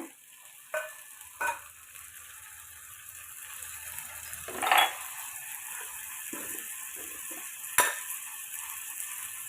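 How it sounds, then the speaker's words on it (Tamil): Chopped tomatoes sauté in a pan with a faint, low sizzle, broken by a few sharp clinks and scrapes of a spoon against the pan. "இது கூட கட் பண்ண தக்காளியும் சேர்த்துக்கோங்க"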